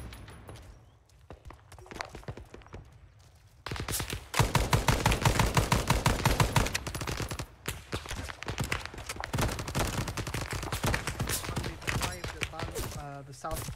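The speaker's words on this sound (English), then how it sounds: "Oh, well, we're taking fire. Shots north." Gunfire in the ArmA 3 S.O.G. Prairie Fire combat mod: dense, loud shots and bursts crack out in rapid succession, sustained throughout, with a few quieter isolated shots early on and voices talking now and then underneath.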